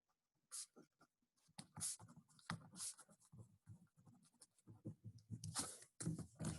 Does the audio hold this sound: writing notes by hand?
yes